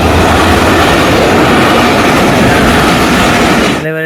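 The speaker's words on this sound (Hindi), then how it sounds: "फाटक बंद है, रेलगाड़ी आने वाली है।" A train rumbles past a railway crossing with its gates closed, a loud, close, continuous roar that holds steady until it cuts off abruptly at the very end.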